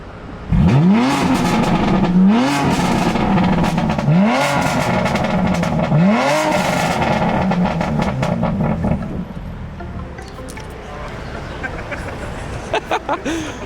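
A BMW F80 M3 fitted with an Active Autowerke non-resonated equal-length mid pipe is revved hard four times in loud, rising blips, then drops back to a rough idle with faint voices nearby.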